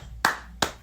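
Two sharp hand claps about a third of a second apart, close and crisp against quiet background.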